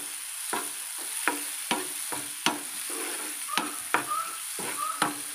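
Onions fry in a pan with a soft background sizzle while a spatula taps and scrapes the pan in a regular rhythm, roughly one knock every half second.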